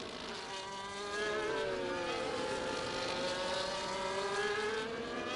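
A Formula 1 race car at the 2024 Australian Grand Prix screams down the straight, a sustained high buzzing engine whine with rising pitch tones, steady and somewhat distant, with no talking.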